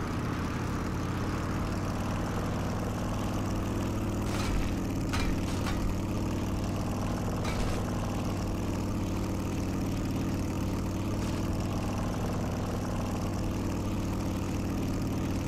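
A motorcycle engine in the 7 Days To Die Undead Legacy video game runs continuously, a loud, steady droning rumble that holds its pitch throughout with no breaks.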